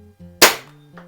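A Ruger Mark 4 Umarex air pistol fires a single sharp, loud shot over a chronograph, with a quick crack that fades fast and a low steady hum underneath.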